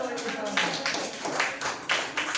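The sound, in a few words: applause, clapping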